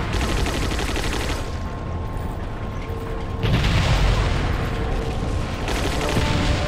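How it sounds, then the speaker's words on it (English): Explosions in the Resident Evil 4 video game, a cannon blast setting off loud, broadband booms and rumbling bursts that swell and recede across the stretch with no talk over them. "Oh, oh, we have an explosive thing going on."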